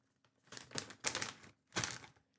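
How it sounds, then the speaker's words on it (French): Plastic packaging around mochi gets tugged and worked open in three or four short bursts of crinkly rustling, close by, with quiet pauses between and no talking. "Et le packaging, il veut pas s'ouvrir"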